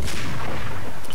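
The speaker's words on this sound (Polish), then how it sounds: "Chyba snajper." A single loud, booming sniper rifle shot from the video game Max Payne, close and sharp with a short rumbling tail.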